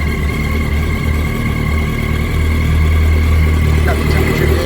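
A 2006 Yamaha R1 LE sport motorcycle engine runs steadily at a warm idle, a loud, constant low rumble with a slight swell near the end; no one speaks over it.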